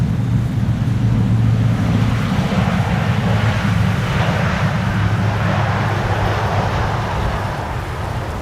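A KLM Boeing 777-300 airliner arriving at Amsterdam Schiphol in stormy, windy weather, a loud broad jet roar mixed with gusting wind noise, steady and close, easing slightly toward the end.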